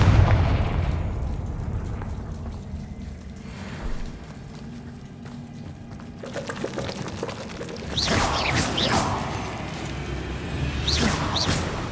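A Confringo fire spell goes off in Hogwarts Legacy, a booming blast at the start that fades into rumble, followed later by further bursts and crackling impacts of moderate loudness with no voices.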